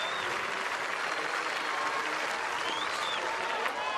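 Loud, sustained applause from a large stadium crowd at a Diamond League athletics meeting in Oslo, a dense steady roar of clapping and cheering that fills the whole stretch.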